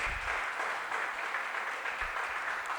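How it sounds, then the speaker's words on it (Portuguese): Church congregation at a Wednesday service applauds, a continuous wash of many hands clapping with no pause. "Aplauda o nome dele e fique de pé."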